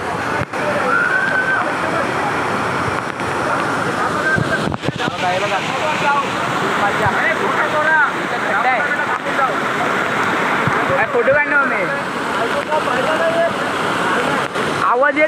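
A hidden waterfall at Ghatkopar rushes in a steady, loud roar of falling water with wind buffeting the microphone, while someone talks over it.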